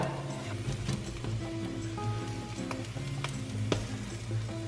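A tuna melt sandwich fries in a pan with a steady, close sizzle and a few light ticks and scrapes as it is flipped, with no speech.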